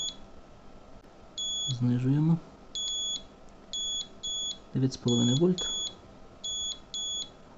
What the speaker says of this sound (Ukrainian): Пищить, що батарея сіла.